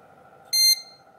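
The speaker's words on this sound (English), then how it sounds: "System beep. Boot no display." A single short, bright electronic motherboard system beep from a PC booting with no display, cutting through a quiet, steady background hum.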